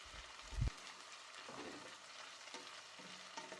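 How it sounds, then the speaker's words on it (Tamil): Onions, green chilies and curry leaves sauté in a pan for a Sri Lankan tin fish curry, giving a steady low sizzle with a sharp knock of the spoon early on and light stirring scrapes throughout. "பச்சை மிளகா கருவேப்பிலை அதையெல்லாம் சேர்த்துக்கொள்ளலாம் அதையும் நல்லா கொஞ்சம் வதங்க விடுங்கோ"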